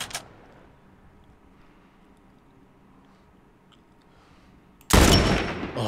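A single sharp crack opens, then a long stretch of quiet low rumble before a loud, close gunshot bursts out near the end and rings on, from combat in The Last of Us PC Remaster.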